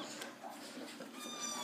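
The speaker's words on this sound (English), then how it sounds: "we have little kittens that we're just taking care of" Little kittens meow repeatedly in thin, high cries, close and fairly soft, with faint household background noise.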